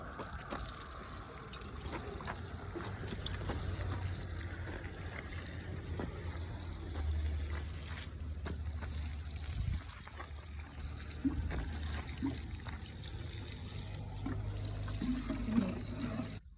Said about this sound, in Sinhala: දැන් අපි ඊස්ට් මිශ්‍රණයෙන් දානවා.